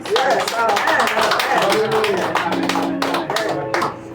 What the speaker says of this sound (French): Alors, applaudissez le Seigneur.